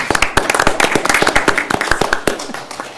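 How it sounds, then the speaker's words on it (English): A small group at a planning commission meeting claps for presenters, with loud, close, individually distinct hand claps in a quick uneven rhythm for about three seconds. "Can we clap for them?"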